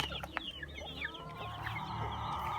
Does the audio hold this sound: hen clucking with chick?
yes